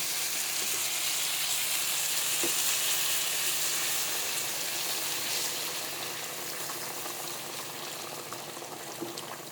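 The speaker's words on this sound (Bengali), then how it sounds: "এখন আমি ঝোল দিয়ে দেবো।" Curry broth poured into a hot pan: a loud, steady, close bubbling sizzle that continues evenly throughout, easing slightly toward the end, with no talking.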